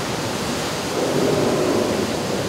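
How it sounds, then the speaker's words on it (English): A flash flood simulation at an aquarium exhibit sends thousands of gallons of water rushing into a model canyon, producing a loud, steady roaring wash of broadband noise that swells slightly midway, with no voices. "thousands of gallons of water fill the canyon"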